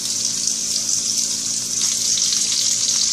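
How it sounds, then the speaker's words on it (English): Fish sizzles steadily in hot butter and oil, a loud, continuous crackling hiss with no talk over it. "Now let's put our fish into our hot butter and oil."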